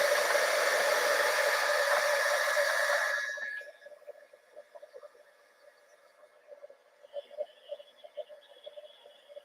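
A heat tool blows loudly and steadily while melting white embossing powder on a stamped paper craft project, then cuts off after about three seconds, leaving faint tapping and light handling noises.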